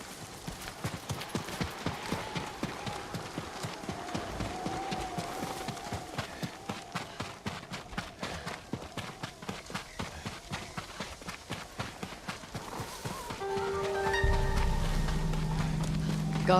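Rhythmic hoofbeats of horses galloping close by in the video game Ghost of Tsushima, a fast steady clatter that slows and gives way to a low rumbling drone near the end.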